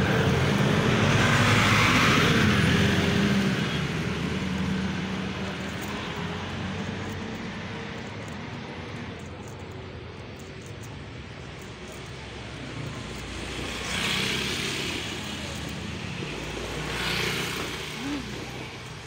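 Cars pass on a road in a rural province, a continuous loud roadside rush of traffic swelling and fading as vehicles go by, with faint voices nearby.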